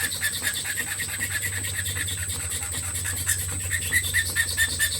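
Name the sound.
filing wood up to drilled holes in an inlay pattern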